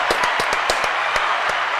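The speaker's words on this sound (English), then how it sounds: "a round of applause once again" A small group gives a round of applause, heard as a sparse, fairly loud run of separate claps at an uneven rhythm, with no talk.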